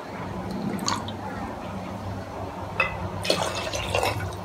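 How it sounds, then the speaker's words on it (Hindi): Water is poured into a pot of soaked rice for dal khichra, faint trickling and splashing with a few small drips, quiet and close. "अब इसमें मैं 3 कटोरी पानी डालूंगी।"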